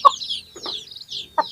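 Chickens cluck nearby in a few quick, close calls with short gaps between them, loud and clear against a quiet background.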